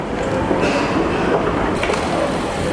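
Busy platform ambience at Manchester Piccadilly railway station, with a steady rumble and clatter of a train moving nearby and faint metallic squeals, loud and continuous.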